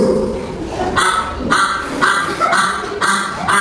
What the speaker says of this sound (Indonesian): Suara bebek.